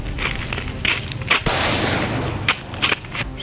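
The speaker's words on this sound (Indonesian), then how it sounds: "Sebuah peluru melesat menembus tubuh Awes Malabi hingga menyebabkan ia tewas di tempat" Gunshot in a dramatized Battle of Surabaya scene: one sharp, loud broadband crack near the middle, with a rushing burst after it, set against a busy background with a few softer impacts.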